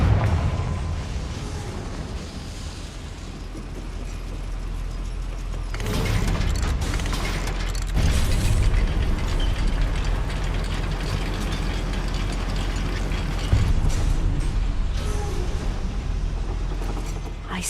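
Goblin mine lift mechanism in the video game Hogwarts Legacy, a steady ratcheting, gear-driven clatter with creaks and heavy thuds that grows louder around the middle and continues throughout.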